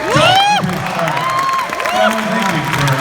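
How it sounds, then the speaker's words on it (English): Crowd at a Dragon Ball Super Broly convention panel in Melbourne cheering and whooping loudly, with shouts and voices rising over steady clapping throughout. "Give me a round of applause."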